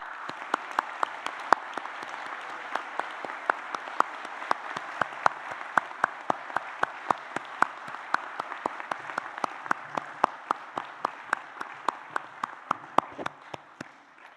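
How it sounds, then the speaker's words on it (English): At a university graduation ceremony, the audience applauds the graduates with a thin, spread-out patter of separate claps, each hand-strike distinct, keeping an even pace throughout. "can I ask the audience to please join me in applauding the wonderful achievement of our"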